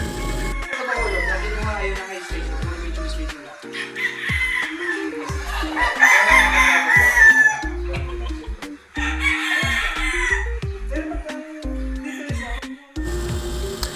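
Several roosters crow repeatedly over a steady background of hens clucking nearby on a game farm at Mt. Banahaw, busy and fairly loud with overlapping calls throughout.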